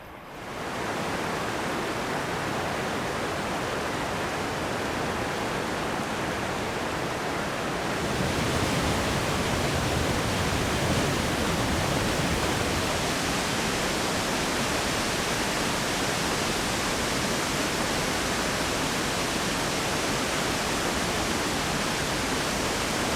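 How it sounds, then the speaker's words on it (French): Lily Falls in Madagascar's Itasy region pours over basalt rock in a loud, continuous, broadband roar of cascading water that stays steady throughout and swells slightly partway in. "pour donner vie à de tumultueuses cascades au franchissement des grosses fractures de terrain sur la roche basaltique."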